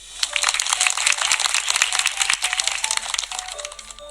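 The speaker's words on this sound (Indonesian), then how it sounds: "Tepuk tangan semuanya." A class of children applauds in a classroom, a dense burst of many hands clapping steadily for several seconds before thinning out slightly toward the end.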